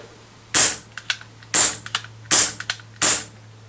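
A Mad Max Contender break-top gas pistol fires four sharp, close shots at roughly one-second intervals, each followed by quick mechanical clicks of the action.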